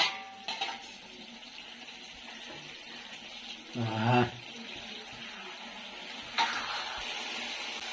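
Guggillu are stirred as they fry in oil in a pan: a soft, steady sizzle runs throughout, with one clear scraping stir in the middle and a couple of light utensil knocks.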